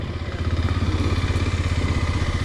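A vehicle engine, stuck and working for grip, revs loud and close as the clutch is fed in, a steady throbbing drone with a fast pulsing beat and some mechanical clatter, no voices over it.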